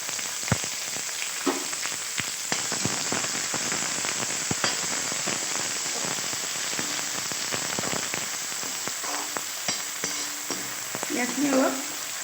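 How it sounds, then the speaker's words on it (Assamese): Chopped onions fry in hot oil with bay leaf and green chilies for a coconut and fish curry. A close, steady sizzle is broken by frequent sharp crackles and pops, which grow busier toward the end. "পিঁয়াজখিনি অলপ ব্ৰাউন কালাৰ হোৱালৈকে ভাজি ল'ব লাগিব।"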